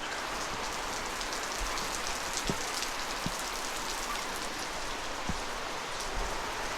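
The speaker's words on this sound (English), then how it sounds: "Fortunately, it's okay to get in the rain here because it's not cold." Steady rain falls and patters on a surface, a constant soft hiss with occasional heavier drips, no voices.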